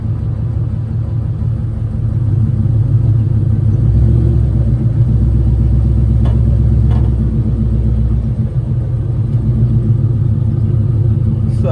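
Ford Mustang engine rumbling steadily at low speed while reversing, a deep, loud, continuous idle-like burble close by with slight swells in level and no speech.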